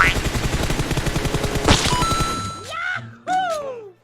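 Rapid, loud bursts of Mini Uzi fire from a video game rattle continuously for a couple of seconds, followed by ringing in-game effects and descending tonal sounds that fade out.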